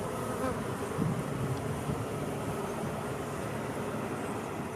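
Honey bees at an apiary in Hyères, France, hum as a dense continuous buzz of many insects, steady and loud throughout, with no other sounds breaking through.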